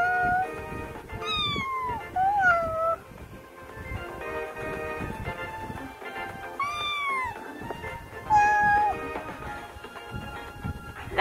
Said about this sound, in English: That's a cat and baby duo right there.